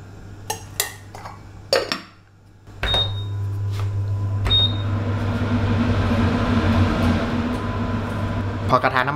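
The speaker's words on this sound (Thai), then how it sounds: "ก็เปิดเตาเลยครับ ใส่น้ำมันลงไปพอประมาณครับ วันนี้ผมใช้เป็นน้ำมันเจียวหมูครับ" Stove being lit and pork lard added to a pan on a home kitchen range, with clinks of pots and utensils, then a steady broad hiss and low hum filling the rest, while someone talks throughout.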